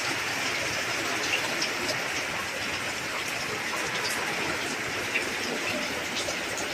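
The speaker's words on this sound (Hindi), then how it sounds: "रायपुर तो खूब बारिश होची है" Steady, dense rain in Raipur hisses evenly throughout, a broadband wash with scattered drop ticks and no voices.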